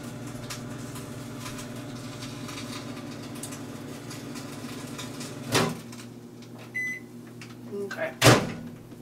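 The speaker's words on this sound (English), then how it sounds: "you're going to microwave it again for 10 seconds." A kitchen microwave oven hums steadily while heating cream cheese, then its door clunks open and shut with a few sharp knocks and a beep, near and clear.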